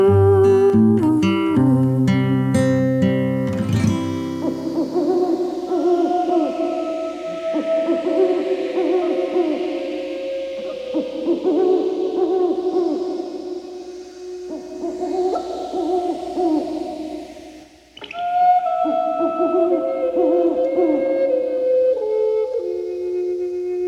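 An owl hooting in long, wavering calls repeated every few seconds, close and loud over a steady musical backing, with a brighter burst of tones at the start.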